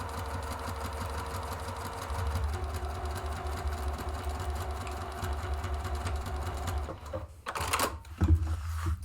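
A sewing machine stitches in a steady, rapid mechanical rhythm, then stops, followed by a few brief clunks and handling noises.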